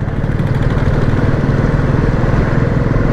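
A Royal Enfield Bullet motorcycle rides along with a steady, loud, deep thumping engine drone that runs unbroken throughout, close to the rider and with no speech.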